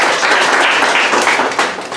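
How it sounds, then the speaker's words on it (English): An audience at a women's empowerment workshop in Kigali applauds, producing a dense, loud wash of clapping that stays steady for about two seconds before easing slightly. "Let's give applause for the brother."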